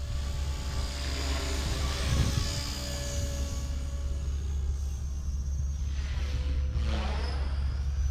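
A small radio-controlled model helicopter, a Fusion 180, whines and buzzes continuously nearby, its rotor pitch rising and sweeping as it maneuvers, with no talking.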